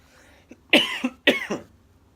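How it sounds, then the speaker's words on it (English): A coughing fit during a keto breakfast mukbang: two close, loud bursts of harsh coughs about half a second apart, each breaking into a couple of hacks, with a faint throat sound before and quiet afterwards. "I was having a little bit of a coughing fit"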